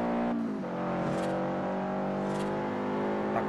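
A Lamborghini Diablo's engine revs in the racing game Forza Horizon, a loud steady drone that drops briefly and climbs again as the car accelerates, with no talking.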